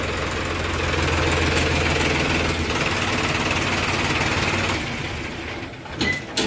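A Sonalika tractor's diesel engine runs steadily with a low, throbbing idle that stays loud and close, then fades a little near the end as other faint knocks and clatter come in.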